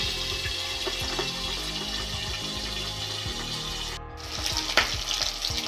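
Pabda fish fry in oil in a pan. A steady, close sizzle with small crackles continues throughout, briefly dipping before it picks up again, with no talking.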